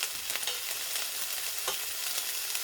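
Carbonara ingredients fry in a pan with a steady close sizzle and crackle, and brief stirring scrapes come through now and then. No one speaks.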